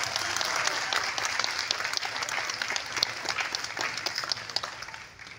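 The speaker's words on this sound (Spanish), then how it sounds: "También recibimos con un fuerte aplauso a Salud García, síndico." A crowd at a rural community entrepreneurs' support ceremony claps steadily, a dense, continuous round of applause with sharp individual claps poking through, fading toward the end.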